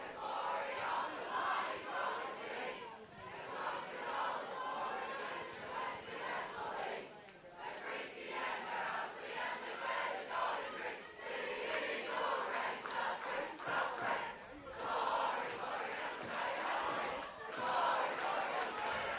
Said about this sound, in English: we're about to hear the St John's crowd rise as a choir and sing and chant together